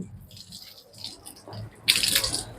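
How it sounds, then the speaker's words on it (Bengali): Water is poured onto a sapodilla tree, soft trickling and splashing that swells into a louder gush near the end, fairly close. "সবেদা গাছটা জল দিচ্ছি"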